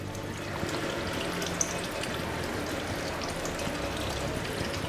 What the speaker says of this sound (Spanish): vamos a detener la cocción de la siguiente manera. Y es poniéndole agua fría